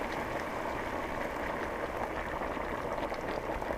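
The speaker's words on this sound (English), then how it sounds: "So now I'm gonna put that water in here." Hot water poured into a pot of goat meat soup, a steady bubbling, splashing liquid sound at close range, continuous and fairly soft without talk.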